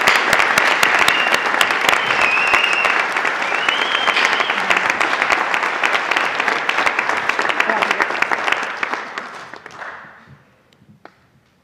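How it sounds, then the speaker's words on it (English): Sustained applause from a graduation audience at a 2013 eDCSD ceremony, dense steady clapping with a few whistles that fades out over the final two seconds. "One more round of applause."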